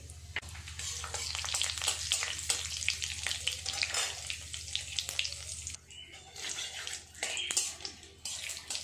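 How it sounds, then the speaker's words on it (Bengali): Bay leaf, dried red chillies and cumin crackle and sizzle in hot oil, a dense busy frying hiss with scattered pops, briefly dipping midway before sizzling strongly again. "তেল গরম হয়ে গেছে ফোড়নে দেব একটা তেজপাতা দুটো শুকনো লঙ্কা আর এক চামচ জিরে"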